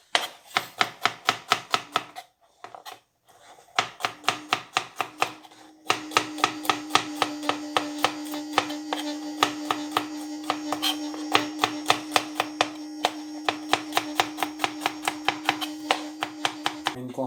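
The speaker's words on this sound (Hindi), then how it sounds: "बहुत छोटा छोटा ना इसे ऐसे काटेंगे आहो को सारे को" Garlic is chopped finely with a knife on a board, a fast steady run of sharp close taps with a brief pause, then continuing under a constant tonal hum.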